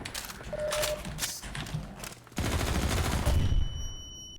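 Rapid machine gun fire and a grenade launch in the Half-Life 2 MMod game, a dense run of loud, close shots that thickens into a heavier barrage near the end.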